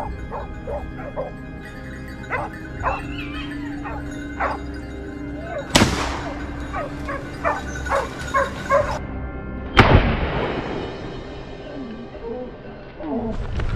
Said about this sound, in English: Just then, our dogs barked furiously.